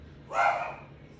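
A pet dog barks once indoors in the background of a conversation, a single muffled bark of moderate loudness rising briefly over a low steady hum.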